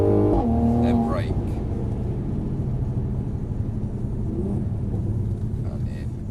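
A Mercedes-Benz car driving in Sport Plus mode, its engine a loud steady rumble that holds throughout, with a brief higher rev note near the start and speech over it.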